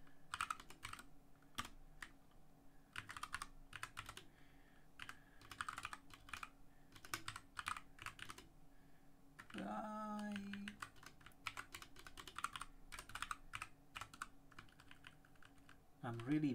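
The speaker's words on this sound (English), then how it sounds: "I'm really bad at typing today." Rapid bursts of typing on a computer keyboard while working on Python documentation code, irregular clusters of clicks through the clip with a brief tonal sound partway through.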